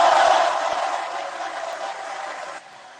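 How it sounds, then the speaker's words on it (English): An audience gives a round of applause with some cheering, a dense burst of clapping that is loudest at the start and gradually fades before cutting down to a quieter tail. "Let me get this round of applause off real quick."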